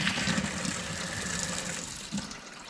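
Water runs steadily through household plumbing fed by a newly installed GASLAND propane tankless water heater, a continuous broad rushing flow with brief gurgles of air, moderately loud and alone.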